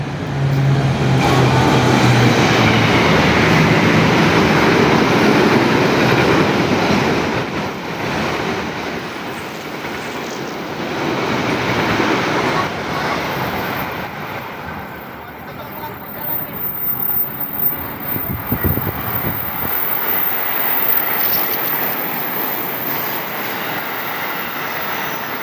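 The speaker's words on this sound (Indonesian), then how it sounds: "K6 berpapasan dengan KRL time 6000" A KRL commuter electric train of the 6000 series passes another train near a station, a loud rushing roar with rattling wheels that swells, dips midway, then builds again.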